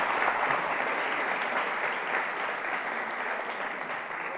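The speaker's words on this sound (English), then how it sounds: "I can give myself applause" Steady applause from an audience, triggered on demand by a presenter's button press during a talk on tiny computers, JavaScript and MIDI; a dense, even wash of clapping at moderate level for several seconds with no speech.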